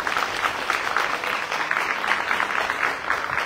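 Audience applause at a ceremony delivering teaching materials to kindergartens in Jalpa, Zacatecas, a steady, even wash of clapping from a seated crowd, moderately loud and unbroken.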